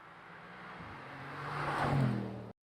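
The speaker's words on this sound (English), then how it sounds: "It is the Aston Martin Vantage Roadster, and I'm going to test drive it on the roads of California." A 2021 Aston Martin Vantage Roadster driving on winding California roads, its engine a steady broad roar that swells toward the end before cutting off abruptly.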